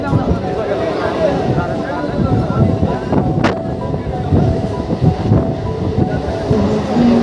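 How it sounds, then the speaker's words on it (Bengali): A Howrah–Masagram local train runs at speed on the Indian Railways line, giving a loud, steady rumble with faint clickety-clack rhythm and wind buffeting, heard from inside the carriage with voices in the background. "বন্ধুরা, আমাদের ট্রেন পার করছে এখন জনায় রোড স্টেশন।"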